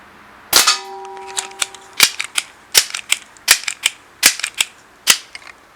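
A Crosman 1377 American Classic .177 pellet pistol fires one sharp, loud shot, followed by a run of quick mechanical clicks and clacks from the gun's action. The handling sounds come in a loose, irregular rhythm, and no one speaks.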